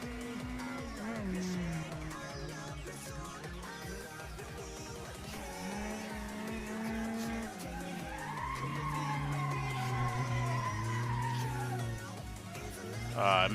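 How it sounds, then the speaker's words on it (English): Stock Audi A6 in the Assetto Corsa racing game during a mountain touge run, engine pitch climbing and dropping through gear changes with sustained tire skid squeals, under loud background music and occasional talk. "you can hear the car, right?"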